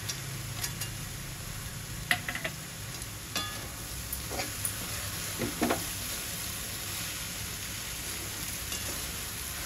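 Peanuts frying in oil tempering for puffed-rice pohe, a steady close sizzle with scattered small pops and the occasional light clink of a spoon against the pan.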